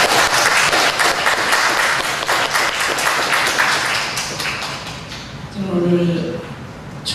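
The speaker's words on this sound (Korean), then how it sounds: "우리 따뜻한 축하의 박수 다시 한번 부탁드립니다" Church congregation applauding during a Sunday service, a loud sustained burst of many hands clapping that fades after about five seconds, followed by a voice speaking.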